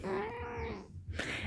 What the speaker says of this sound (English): You want to meow?